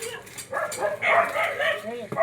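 Dogs barking at a shop storefront, a few short yaps mixed in with close, continuous talking that mostly covers them.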